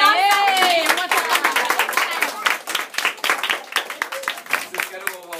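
Children at a church kids' worship session clap their hands in a quick, rhythmic burst that follows a voice trailing off at the start, with the claps growing uneven and thinning toward the end.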